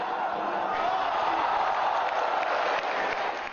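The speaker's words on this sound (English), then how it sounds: "T-Mac, though a visitor to Beijing, drew applause from the home crowd" A home crowd at a Beijing basketball game applauding, dense steady clapping heard alone and at an even level throughout.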